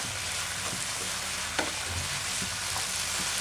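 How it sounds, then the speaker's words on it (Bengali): Vegetables with soy sauce frying and being stirred in a pan for spring roll filling, a steady close sizzle with a few soft clinks and scrapes of the utensil and no talking. "ভালো করে মিক্স করে নিয়ে একটু সিদ্ধ করে নেব যাতে সয়া সসটা সবজির ভিতরে ঢুকে যায়"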